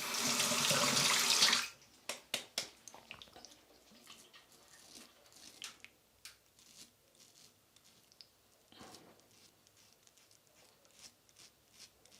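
A bathroom tap runs loudly for a moment while a man rinses his face after shaving, then cuts off, leaving soft splashes and scattered drips.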